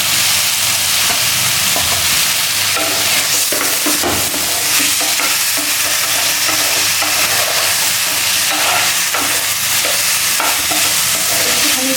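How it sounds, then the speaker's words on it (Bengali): Potatoes fry with spices in a pan, sizzling loudly and continuously with steady scraping and stirring strokes close up, and no one speaking. "আমি আলুগুলো ভেজে ভেজে দিয়ে দিচ্ছি"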